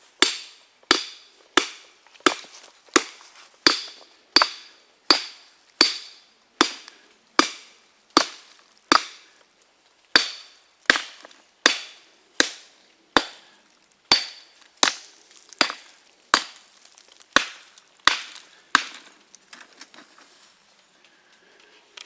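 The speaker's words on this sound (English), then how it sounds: "Take your hammer, bust it as fine as you can get it." A hammer breaks up a 50 lb salt block in a hole dug for summer deer prep, roughly two dozen sharp, evenly paced blows ringing out close and loud, with no talking.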